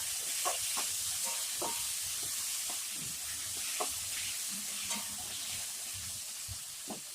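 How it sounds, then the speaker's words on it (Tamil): Three large chopped tomatoes sautéing in a pan for an Indian rice dish, a steady soft sizzle with occasional stirring scrapes and light taps, close and alone without talk. "இப்போ இந்த தக்காளி பழத்தை நல்லா வதக்கிட்டு,"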